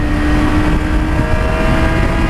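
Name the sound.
motorcycle engine dropping revs as throttle is cut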